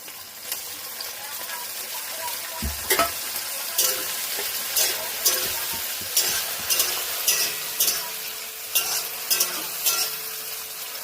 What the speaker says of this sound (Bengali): রসুন আর লঙ্কাটা ভালো করে ভেজে নিয়েছি, আমি এখন টমেটোগুলো দিয়ে দেবো